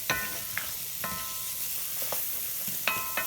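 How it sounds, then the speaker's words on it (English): Onions and garlic softening in a pan, sizzling steadily while a utensil stirs them, several distinct scrapes and clinks against the pan spaced irregularly over a constant frying hiss, close and clear. "now I'm just going to give it a quick little stir to see where we're at"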